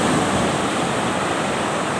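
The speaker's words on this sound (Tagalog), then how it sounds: "Ayan yung dagat natin. Medyo kalmado na yung alon kumpara kahapon." Sea waves wash onto the shore of a beach resort in Pagudpud, Ilocos, a steady close rushing surf with some wind noise, fairly calm and continuous with no voices.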